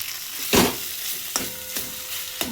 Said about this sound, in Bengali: এই দেখো চাল কুমড়ো রান্না করছি